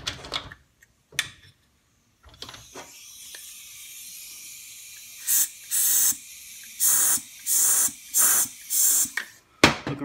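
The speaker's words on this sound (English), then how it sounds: "See how fluid's coming out of there when I air check it?" Bursts of compressed air hissing into a cracked transmission drum from a 2008 Chevy 2500's 6L90 transmission, fluid spraying at the weld; about six sharp, close, loud bursts in a steady rhythm after quieter clicks and handling noises.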